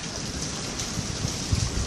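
Steady rain falls during a thunderstorm, a dense even hiss of drops with a few faint low thumps, heard outdoors at moderate level with no talk.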